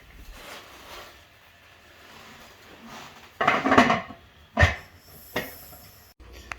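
A few metallic clanks and scrapes of a heavy pressure canner lid being handled, separated by quiet pauses, with a sharp clunk in the middle.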